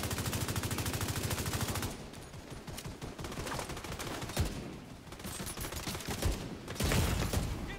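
Rapid automatic rifle fire rattles in The Division 2 video game, long sustained bursts of gunshots with brief pauses between volleys, loud and close.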